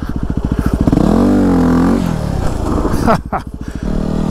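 Yamaha WR250R dirt bike revving hard during wheelie practice at an off-road vehicle park, a loud close engine roar that rises and falls with throttle, with a sharp clatter near the end and a voice heard over it.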